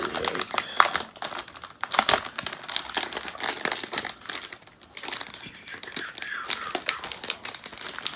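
Tight plastic shrink wrap being torn and crinkled off a DOOM Eternal collector's edition box, close and irregular, with bursts of crackling and sharp rips over about eight seconds.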